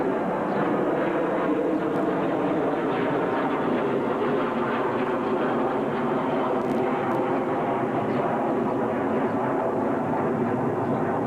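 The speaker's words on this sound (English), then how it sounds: "Big plane." A big airplane's engine roars loud and steady throughout, a dense sustained rumble that never fades, heard near at hand behind the scenes of a film shoot.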